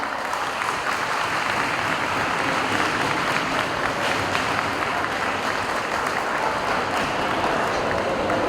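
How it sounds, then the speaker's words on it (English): Enthusiastic audience applause fills a hall during a Nurses Day celebration in Mianwali, many hands clapping densely and steadily for several seconds at a consistent level. "भरपूर तालियां"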